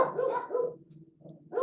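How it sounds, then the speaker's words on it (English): Several dogs bark and yip together in a short chorus, a burst of overlapping barks at moderate distance followed by a pause and another brief bark, with no talk. "You hear my dogs, they're in chorus right now."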